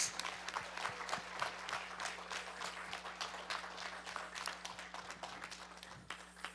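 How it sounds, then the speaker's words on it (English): Audience applause after a dance performance on the devotional theme NavaVidha Bhakti, a dense, steady patter of many hands at moderate distance, fairly quiet with a low electrical hum underneath, sustained evenly throughout. "Let's give a big applause."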